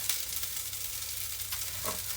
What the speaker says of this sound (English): all this patty is required is just a bit of a toasting from both sides